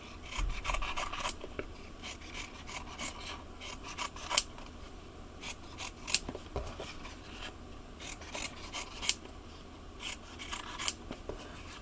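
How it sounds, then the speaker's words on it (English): Scissors cutting denim fabric into rough rose petals, a run of crisp, repeated snips and rasping shears at close range, in irregular bursts with soft rustling of cloth between them and no talking. "it's easy to first cut up the big piece of fabric into individual petals, just roughly"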